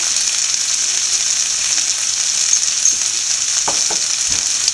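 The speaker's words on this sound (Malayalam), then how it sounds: "നല്ല ഫ്ലെയിമിൽ ഇളക്കി കൊടുത്തുകൊണ്ടിരിക്കുക" Loud, steady sizzling of beef stir-frying over high heat, with a few soft clinks and scrapes of stirring near the end.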